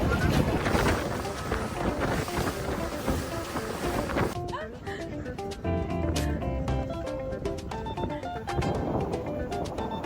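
Motorboat ride across open water in the San Blas Islands, steady engine and wind rush for the first few seconds, then quieter choppy water and hull knocks with people talking over it.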